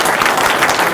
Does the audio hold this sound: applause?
yes